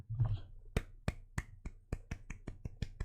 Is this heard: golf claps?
yes